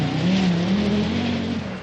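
A two-wheel drive Audi rally car on the final stage of a 1985 British Rally Championship round in England, engine droning loudly at close range with a steady pitch that rises slightly, continuous for the whole moment.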